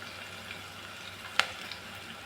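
Vegetables with turmeric fry in a pan for potato and brinjal sambar, with a steady soft sizzle and one sharp clink of a utensil partway through.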